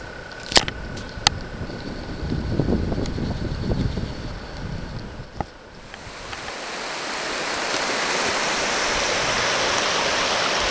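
The Big South Fork of the Cumberland River rushing steadily in a forested gorge, a broad even wash of flowing water that swells louder and fuller after a few sharp knocks and clatters early on.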